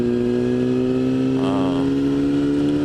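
A Yamaha R6 600 sport motorcycle ridden on the road, its engine a loud steady drone with a brief rise in pitch midway, heard close and continuous with no talking.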